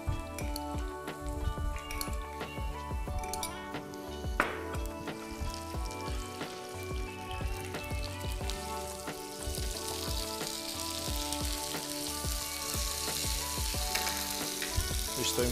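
Vegetables sizzle and crackle steadily in a frying pan, prepared as a side for rolled fish, with a dense, continuous hiss of hot oil and occasional pops, close up and without talk.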